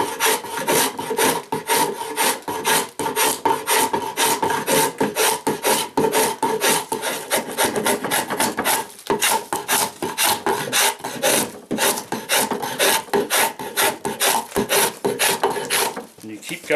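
A hand tool rasps steadily into a wooden bowl as it is hollowed out, a loud, continuous scraping of closely repeated strokes with brief pauses, and no voices.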